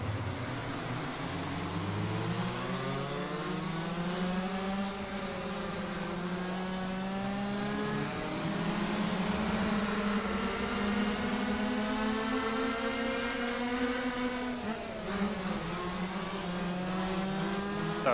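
Racing kart engine in the rFactor 2 KartSim mod, its high buzzing note climbing and falling through gear changes and corners, continuous and loud for the whole stretch with no talking.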